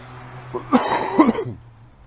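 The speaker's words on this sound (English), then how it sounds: "I gotta cough at least once every video." A single short, close cough, a couple of rough bursts, then quiet.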